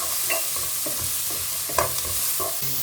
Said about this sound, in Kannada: ಈಗ ಟೊಮೆಟೊದ ಹಸಿ ವಾಸನೆ ಹೋಗೋ ತನಕ ಫ್ರೈ ಮಾಡ್ಕೊಂಡಿದ್ದೀನಿ